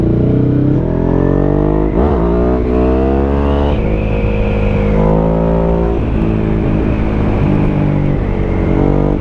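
A Ducati Hypermotard 821 motorcycle's engine and exhaust rev loudly and close, the pitch climbing through several gears in repeated acceleration sweeps with a continuous throaty drone.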